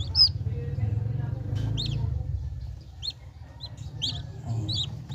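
Newly hatched chicks in an incubator give high, thin peeping chirps in short bursts over a low rumble of background noise and faint voices, near and moderately loud.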